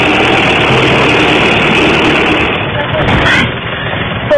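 A tractor carrying passengers across muddy, flooded ground in Zamboanga del Norte drones loudly and steadily up close, its heavy engine running continuously with a slight dip near the end.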